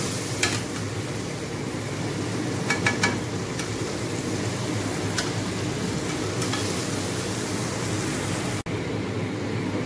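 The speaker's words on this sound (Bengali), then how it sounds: "দেখো চিকেনটা বসিয়ে দিয়েছি কষাতে" Steady sizzling of chicken frying with onion, ginger and garlic in a hot pan, with occasional scraping clinks as it is stirred, continuous and fairly close.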